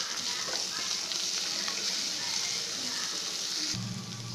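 Curry leaves, onion, crushed coconut, ginger and a green chili fry in sesame oil for black urad sundal, a loud, steady close-up sizzle that holds throughout and drops slightly near the end.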